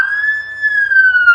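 A hazardous material emergency response vehicle's electronic siren wails loud and close, a single sustained tone that drifts slightly up and down.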